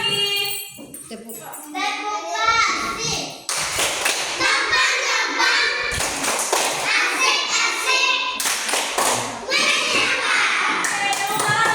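A group, children among them, claps through a patterned 'tepuk fokus' routine in quick bursts of sharp hand claps, close and loud, with voices calling out between the rounds.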